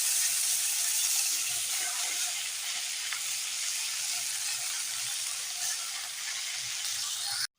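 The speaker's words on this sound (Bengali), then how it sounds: "দেখতে পাচ্ছ শাক ভাজা হচ্ছে" Leafy greens (saag) frying in a pan give off a steady, bright sizzle and hiss that continues evenly throughout, with faint stirring scrapes and no talking.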